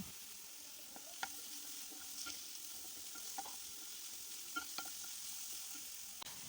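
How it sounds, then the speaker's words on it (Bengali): Onions with turmeric and salt fry in a pan, a steady soft sizzle broken by light scraping taps of a spatula as they are stirred. "এবার দিয়ে দেব নুন, দিয়ে পেঁয়াজটার সঙ্গে খুব ভালোভাবে নাড়াচাড়া করে নেব"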